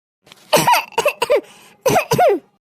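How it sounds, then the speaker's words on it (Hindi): A series of harsh, throaty coughs from a mother character in an animated cartoon, close by, coming in two clusters with a brief pause between them. "अच्छा तो माई के खांसी आवत बा"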